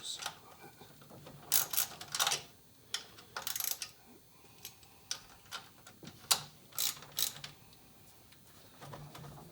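A ratchet loosening a bolt on a 1973 Oldsmobile 455 engine during a rebuild, quick bursts of clicking with pauses between them, close but fairly quiet, with no talk.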